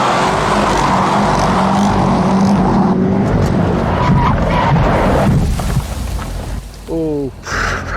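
A car engine revving hard with tyres skidding, loud and close, a sustained roar with squealing that cuts off near the end into a short burst of revs, with voices talking over it.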